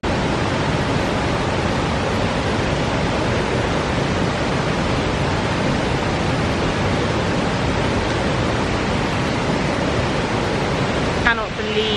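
Kuang Si Waterfall in Laos, a constant broadband roar of rushing, cascading water, loud and steady throughout, with a brief voice near the end.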